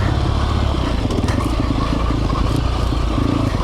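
A 2020 Sherco 300 SEF Factory four-stroke dirt bike ridden off-road, its engine a loud, steady, close drone with gritty scraping and crunching from the terrain throughout.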